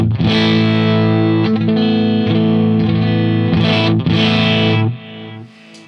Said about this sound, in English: I have my Marshall Plexi, which isn't entirely clean, so when I open the volume all the way up, it sounds like this.